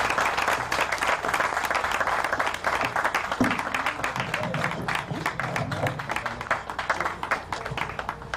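A lecture audience applauds at an Igbo community event, a steady, dense wash of many hands clapping that runs without pause throughout, with a faint voice briefly underneath.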